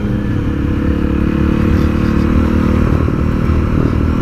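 A Triumph Street Triple R motorcycle is being ridden, its engine a loud, constant, close-up drone that runs unbroken throughout, with no voices.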